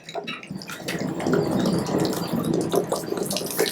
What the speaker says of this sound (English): And we should get the water come gushing out.